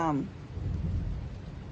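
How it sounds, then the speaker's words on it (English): Thunder rumbles low and distant through a steady hiss of rain during a rainstorm, with a brief tonal sound at the very start. "you hear that thunder?"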